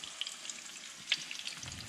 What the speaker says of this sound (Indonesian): Jadi masak nasi goreng sama telur mata sapi